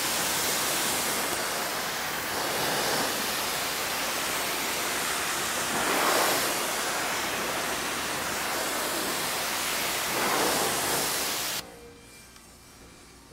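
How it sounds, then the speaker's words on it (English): Water sprays hard onto a tire being rinsed after a ceramic tire shine is applied, a loud, steady hiss that swells and dips for about eleven seconds and then cuts off abruptly. "So let's rinse this off and see where we stand."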